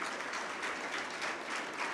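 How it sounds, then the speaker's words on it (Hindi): Sustained, steady applause from an audience welcoming a government minister at a national youth awards ceremony, a dense even wash of clapping from start to finish with no voices over it. "जोरदार तालियों से हमारे माननीय मंत्री जी का स्वागत करें।"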